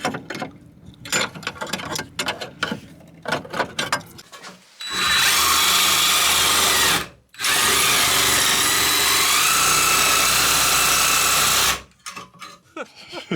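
A power drill grinds out rivets from sheet metal on a vehicle rear bash bar, starting with short tool noises and clanks, then two long, loud, continuous drilling runs.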